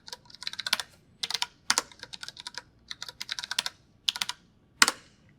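Keystrokes on a computer keyboard entering a terminal command, crisp close clicks in quick bursts of several presses separated by short pauses, with one sharper final tap near the end; no voices.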